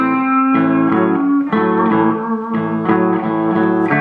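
An electric guitar plays a blues lick in A, repeatedly bending into a note and resolving on the root, a string of close, loud plucked phrases with no talking.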